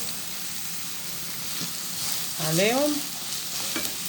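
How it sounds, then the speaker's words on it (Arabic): Chopped onions frying in fat in a pan hiss with a steady, soft sizzle throughout. A brief stir and a faint scrape of a utensil come in partway, and someone speaks a word near the start. "ننزل بقى حوالي ايه 3-4 بصلات كده وسط"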